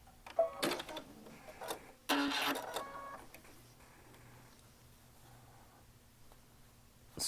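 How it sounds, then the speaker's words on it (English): A Baby Lock Altair sewing machine with a bridging plate set stitches Spanish hem stitching through fabric, giving short bursts of rapid mechanical clatter, then a quieter, softer whirring run. "run it through this on the sewing machine to do your Spanish hem stitching with"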